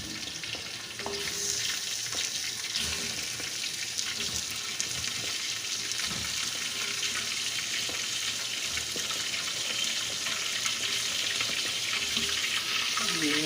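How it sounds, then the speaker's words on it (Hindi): Chicken pieces frying with fresh pounded garlic and ginger and browned onions for a homemade chicken nihari, giving a steady, dense sizzle that keeps going the whole time, with occasional stirring and clinks of a utensil. "लहसुन अदरक इसमें चिकन को फ्राई करेंगे"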